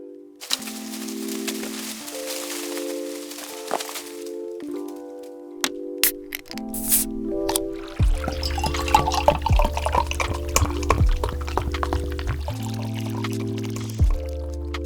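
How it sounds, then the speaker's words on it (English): A can of Boltgun beer is cracked open with a sharp snap, then poured in a fizzing, gurgling stream into a glass, with music playing underneath throughout. "let's get this poured, cracked open, and see what we think."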